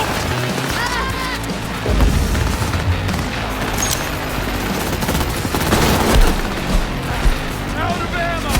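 Heavy gunfire from a Cyberpunk 2077 shootout, dense overlapping shots and impacts filling the whole stretch, loud and continuous with chaotic bursts.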